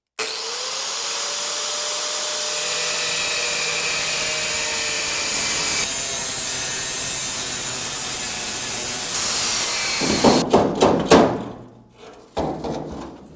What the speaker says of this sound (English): the best way to go about it is just being careful with the cutoff disc and go right around the corner